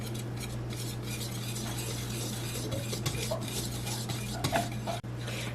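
Red velvet cake batter with cocoa powder is mixed in a bowl, producing a soft, continuous stirring scrape with light clinks of a utensil against the bowl. A low steady hum sits underneath, and no one speaks.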